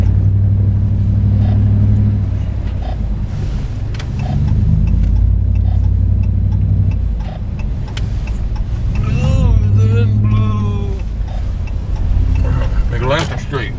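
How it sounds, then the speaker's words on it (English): Steady rumble of Friday car traffic heard from inside a moving vehicle, with engines droning continuously and a few brief rises in revving, while people talk over it. "a lot of traffic on a Friday when most people are supposed to be working"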